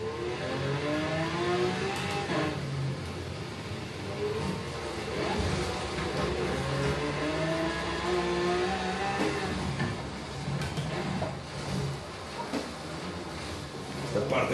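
A racing video game car engine revs and whines continuously, rising and falling with acceleration, played on a Samsung 55-inch curved 4K NU8505 TV, under steady talk from a player.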